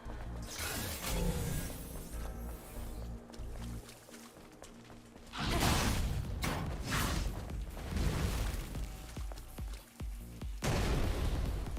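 A blast goes off in the action game Stellar Blade, with heavy booming bursts and rumbling debris around the middle and end of the stretch, loud and close, mixed with game effects and faint talk.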